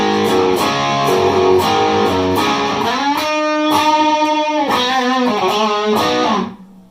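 Electric guitar through a Boss SD-1 overdrive pedal, knobs at noon, plays a chugging riff with rhythmic picked chords, then sustained bent notes, warm and moderately gritty, ending with a fade.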